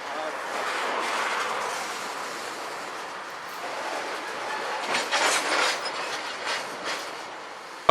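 A BNSF or Union Pacific train rolls along railway tracks beside Puget Sound, a steady close rumble and clatter of wagons that swells louder toward the end, with voices talking over it.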